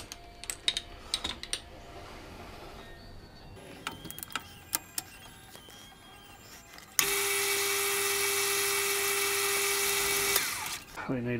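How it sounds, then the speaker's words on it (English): Scattered clicks and clatter give way to a loud, steady high-pitched whine of a drill boring a pilot hole into a metal rifle bolt knob, running for several seconds before stopping. "Get a pilot hole started."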